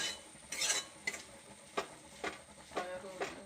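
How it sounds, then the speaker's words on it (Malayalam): Salt stirred by hand into a pan of banana flower and cowpea thoran, giving a few separate scraping and clinking strokes of a spoon against the pan, spaced irregularly and fairly quiet. "ഈ സമയത്ത് ഉപ്പിട്ട് കൊടുത്ത് നന്നായിട്ടൊന്ന് ഇളക്കി യോജിപ്പിക്കാം"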